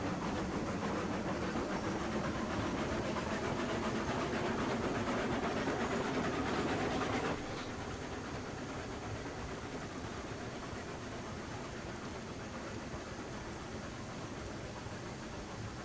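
Train running on rails in a railroad video game, a continuous close rumbling roar that drops to a softer, even hum about halfway through.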